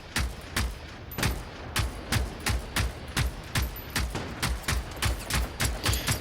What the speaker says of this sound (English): Here, more rockets.